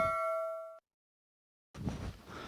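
A bright bell notification ding rings out clearly, then fades into silence, followed by faint room noise.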